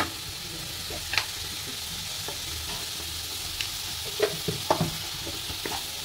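Stirring coconut into melted jaggery in a pan, with a soft steady sizzle and irregular scraping and knocking of the spoon against the pan.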